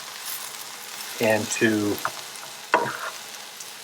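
Risotto rice frying in a pan sizzles steadily and close while someone talks over it, with a few louder stirring scrapes.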